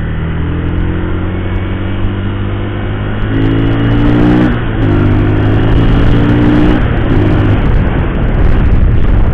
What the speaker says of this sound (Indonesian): kita tes berapa kecepatannya gigi satu.